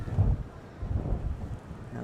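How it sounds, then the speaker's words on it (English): A gust of wind buffets the microphone beside a river during a Masters head-of-the-river rowing race, a low rumbling roar that swells and fades in uneven surges. "Big gust of wind there, but not affecting that crew"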